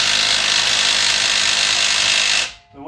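A power tool drives torque sticks to tighten the wheel nuts on a new Land Rover Defender. It makes one loud, continuous rattling whir for about two and a half seconds, then stops abruptly.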